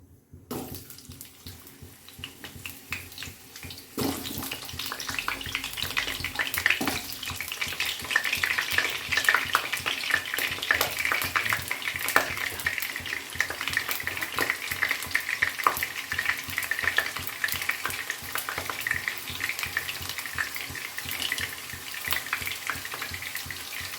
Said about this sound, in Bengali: প্রথমে কড়াই সর্ষের তেল দিয়েছি, দিয়ে আমি গাজর এবং ফুলকপি এই দুটো সবজি, আগে কটা আলু ভেজে নিচ্ছি।